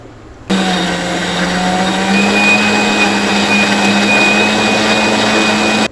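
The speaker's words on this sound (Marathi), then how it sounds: "आता मी कोथिंबीर वगैरे आणले, त्यामध्ये पुदिना, हिरवी मिरची हे सगळं वाटून घेते मिक्सरला" A mixer grinder whirs steadily as it grinds coriander, mint and green chillies, starting abruptly and holding a loud, even motor drone throughout with no talk.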